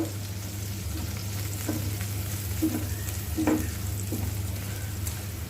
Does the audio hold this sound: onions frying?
yes